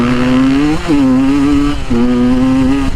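A 2022 KTM 150 dirt bike ridden nearby, its two-stroke engine droning loud and steady with two brief dips and re-rises in pitch as the throttle shifts; no voices.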